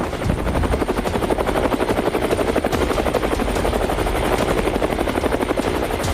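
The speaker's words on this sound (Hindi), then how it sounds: "रूस से हेलीकॉप्टर का एक काफिला यूक्रेन की तरफ बढ़ चला।" A convoy of helicopters flying out of Russia toward Ukraine, with a loud, steady rotor chop pulsing without a break from start to finish.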